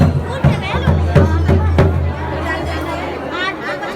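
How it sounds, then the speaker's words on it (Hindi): Dense crowd chatter fills the Kamleshwar Mahadev temple grounds in Uttarakhand's hills, many voices overlapping at close range with occasional sharp knocks and a steady low hum underneath. "जितनी भी देख सकते हो बहुत भीड़ है, बहुत भीड़ है।"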